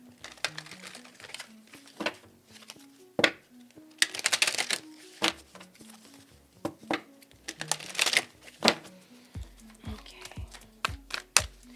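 Tarot cards being shuffled, snapped and dealt out quickly at close range during a pick-a-card reading, a busy run of crisp card slaps and rustles with faint music underneath and a brief spoken word.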